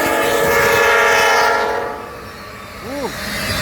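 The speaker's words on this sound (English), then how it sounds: "Ooh, horn salute!" A CN ET44AC freight locomotive on a southbound international train sounds a loud, sustained horn salute over rumbling rail noise. The horn fades out, and a brief voice-like rising call follows near the end.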